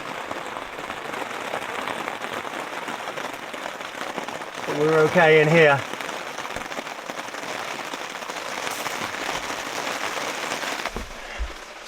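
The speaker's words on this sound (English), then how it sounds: "That's a lot of rain." Heavy rain pours on a Troopy vehicle during a storm, a steady close hiss of drumming drops heard from inside, with a person briefly talking over it.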